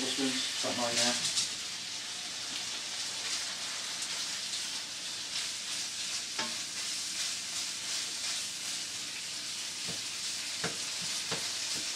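White vinegar sizzles as it hits a pork shoulder, a steady hissing crackle that holds throughout, with a few sharper pops and clicks and brief speech near the start.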